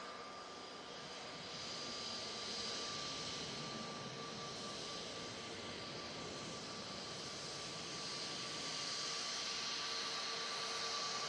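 A Voyager jet airliner departs Manchester Airport bound for Faro, a steady broadband engine roar with a faint whine, heard from a distance and holding level throughout with no talk.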